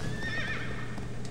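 A horse in the video game Shadow of the Colossus gives a wavering whinny that rises and falls over a steady low game hum, moderately loud, with no talking.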